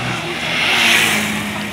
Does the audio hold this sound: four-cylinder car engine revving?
yes